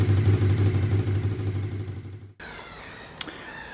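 A Honda VFR750F RC36 motorcycle with its panels removed and a blowing exhaust idles with a close, steady, throbbing engine note, then shuts off abruptly, leaving near-quiet with a single small knock.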